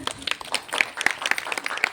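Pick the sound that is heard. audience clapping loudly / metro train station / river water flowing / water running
audience clapping loudly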